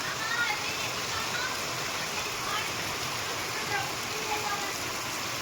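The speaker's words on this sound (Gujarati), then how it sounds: "આવી રીતે વરસાદ પડે છે મસ્ત મજાનો" Steady rain falling, a dense continuous hiss of drops with a faint watery rush underneath, no voices.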